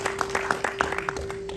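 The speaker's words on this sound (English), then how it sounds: "Big round of applause" A brief burst of clapping at an international conference inauguration, a handful of distinct claps from a modest audience under a steady electrical hum.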